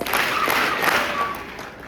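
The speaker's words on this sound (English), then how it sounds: "Let's give 3 big claps." At a school candidate-speech assembly, a crowd claps three big unison claps in quick succession, the sound rolling over a roomy wash before trailing off.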